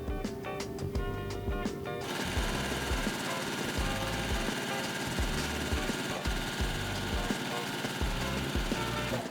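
T-shirt quilt rows stitched together on a sewing machine, a loud continuous mechanical whir with rapid rhythmic needle knocking, close up, preceded by a brief burst of music at the start.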